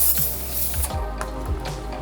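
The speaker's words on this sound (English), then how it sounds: "Get some brake parts cleaner." Brake parts cleaner sprayed from an aerosol can onto a brake rotor of a 2012-2017 Hyundai Accent or Kia Rio, several short close hissing bursts in quick succession, no voices.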